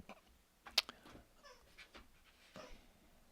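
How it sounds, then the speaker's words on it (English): A dog squeaks a toy once, a sharp high squeal, among soft panting, small yips and shuffling nearby; no one talks. "That's my dog with a squeaky toy."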